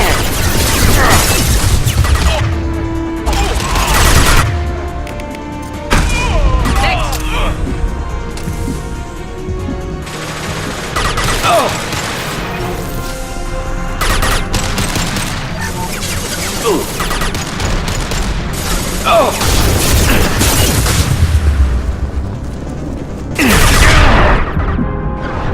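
Gunfire in a Mass Effect 2 video game battle: repeated bursts and bangs through much of the clip, loud and close, with speech and game sounds mixed in.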